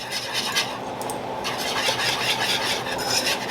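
Stirring a Christmas candy mixture in a pot on the stove as it heats toward a rolling boil, a close, steady scraping and swishing of the spoon with a soft clink of metal.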